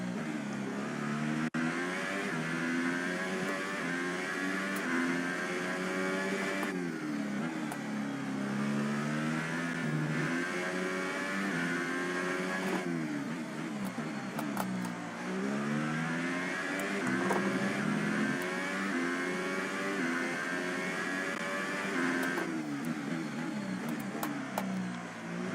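F1 race car engine in the F1 2018 video game, a continuous high-pitched whine climbing and dropping through repeated gear changes and corners, steady and alone with no talk.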